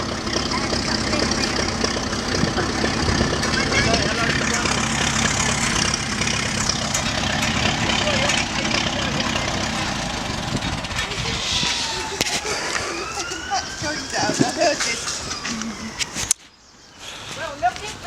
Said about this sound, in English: Don't touch it because the engine's running, so it'll be hot.